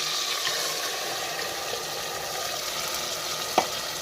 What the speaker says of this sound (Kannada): ಎಣ್ಣೆ ಒಳಗೆ ಸ್ವಲ್ಪ ಫ್ರೈ ಮಾಡ್ಕೊಂಡ್ರಿ